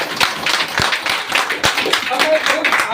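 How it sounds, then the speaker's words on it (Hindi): Audience applause from a crowd at a talk or meeting, a dense, steady patter of many hands clapping throughout with a few sharper claps standing out. "देखो ताली बजाओ।"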